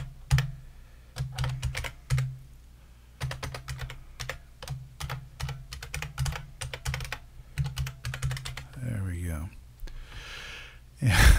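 Keys clatter in quick irregular bursts on a computer keyboard as an email address is typed into Windows 10 encryption software, with short pauses between runs of keystrokes and a breathy sound near the end.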